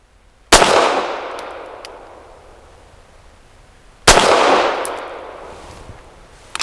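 Two sharp, loud pistol shots from a Walther PD380 firing Browning ammunition, about three and a half seconds apart, each with a long ringing decay and no talk.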